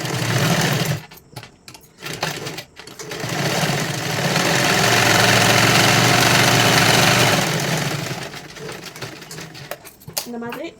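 A sewing machine runs steadily, stitching a 44-size katori blouse, with a loud, continuous whir that stops and starts, plus brief talk near the beginning and end.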